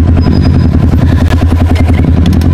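Motorcycle engine running steadily on an enduro trail, a loud continuous mid-pitched drone with clattering texture and no pauses.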